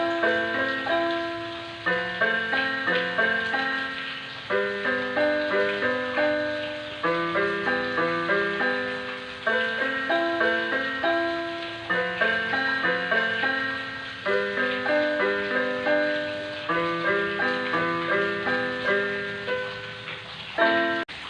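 Piano playing an emotional chord progression with a melody on top, a steady repeating pattern of struck chords and notes lasting about twenty seconds, clear and alone with no talking.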